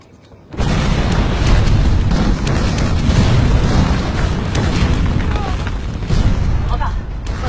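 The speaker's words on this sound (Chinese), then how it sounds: "二连上面的几个阵地都被轰平了" Artillery shelling rumbles through a war film battle, a sudden heavy blast followed by sustained booming explosions and crackling debris, loud and close, with voices faintly mixed in.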